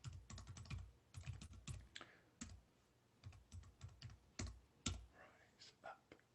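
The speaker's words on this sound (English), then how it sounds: "I'm going to type it in the comments" Rapid bursts of clicking keystrokes on a computer keyboard, uneven runs of taps with short pauses, close and fairly quiet, with no talking over them.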